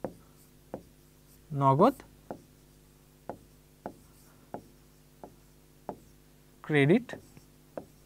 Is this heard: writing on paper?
yes